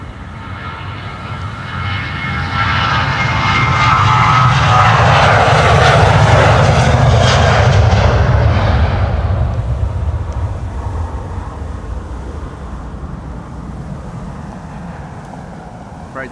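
Hainan Airlines airliner departing Amsterdam Schiphol, jet roar swelling loud and close as it passes, then slowly fading into a distant rumble, no talk.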